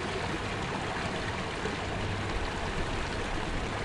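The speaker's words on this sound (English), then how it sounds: "We're camping next to a little bubbling creek" Small bubbling creek running beside a campsite in Los Nevados National Park, Colombia, gives a constant, steady rush of flowing water, close and unbroken with no voices over it.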